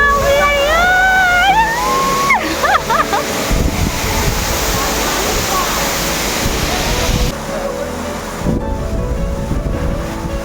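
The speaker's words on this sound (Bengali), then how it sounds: "এই ঝর্ণাটা এখান দিয়ে বয়ে গিয়ে" Broad, steady rush of a waterfall flowing nearby, loud and continuous, with a voice speaking over it at the start.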